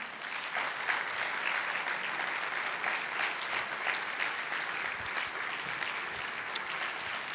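Steady, sustained applause from a large church congregation, dense and even throughout with no voices standing out.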